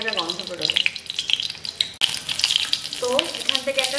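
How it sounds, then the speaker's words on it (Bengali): Fenugreek seeds frying in hot oil as a tempering, giving a steady close sizzle and crackle with brief stirring scrapes, loud and continuous across the clip. "আমি মেথিটা এইভাবেই ফোড়ন দিই"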